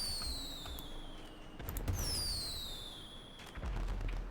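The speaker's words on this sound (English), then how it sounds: "now I see your fireworks." Video game fireworks with descending whistling streaks followed by crackling pops and low booms, moderately loud against steady game background noise.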